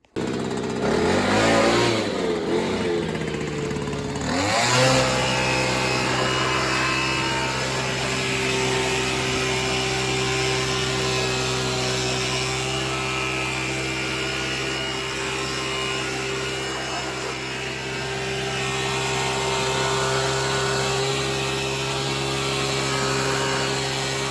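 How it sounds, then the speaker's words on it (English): Leaf blower drying a car engine, starting up with a rising whine, then a steady loud droning roar for over twenty seconds, close by. "I'm just going to hit it with the leaf blower real quick."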